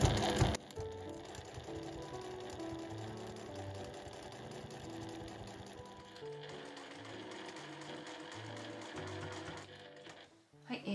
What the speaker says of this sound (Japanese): 持ち手のところをしっかりと指で押さえて縫っていきましょう。